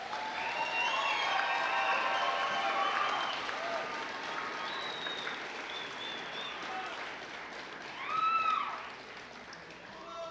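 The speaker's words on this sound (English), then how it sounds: "Let's give them one more round of applause" A large crowd at a high school equivalency graduation ceremony applauds steadily, with scattered cheers and a burst of whooping near the end.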